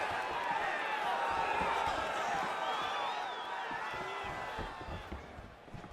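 A packed UFC 287 arena crowd at the Pereira vs Adesanya rematch oohs in a broad, continuous roar as a fighter advances. A commentator talks over the crowd.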